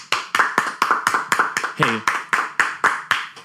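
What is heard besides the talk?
audience round of applause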